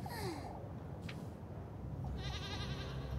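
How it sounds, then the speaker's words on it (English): A goat in the game Little Goody Two Shoes bleats a couple of times, a wavering nasal cry that ends in a longer quavering call, fairly faint against a soft ambient bed. "Goat."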